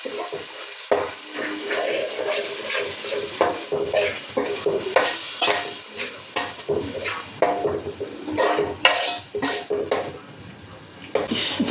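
Steady sizzling of ground tomato frying in a pan with repeated scraping and clinking of a spoon stirring, close and fairly loud throughout.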